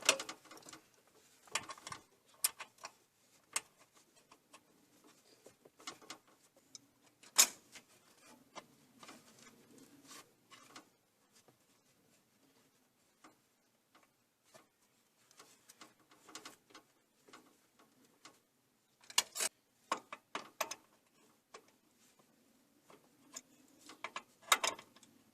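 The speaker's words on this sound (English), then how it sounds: "the upper line, we're going to have to use a wrench" Sparse metallic ticks and light clicks of a wrench snugging the upper transmission cooler line on a Jeep Cherokee XJ, close and quiet, coming in irregular bursts with pauses between.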